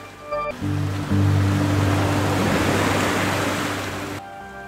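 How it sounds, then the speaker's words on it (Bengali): Khoiyachora waterfall in Mirsharai, Bangladesh, a large, many-tiered falls, roars with a dense, steady rush of water, loud and continuous, while low sustained musical tones hum underneath and brief music frames the start and end. "এই খোয়াছড়া ঝর্ণা বাংলাদেশের বৃহত্তম ঝর্ণাগুলোর মধ্যে অন্যতম।"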